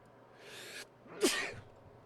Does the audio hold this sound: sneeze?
yes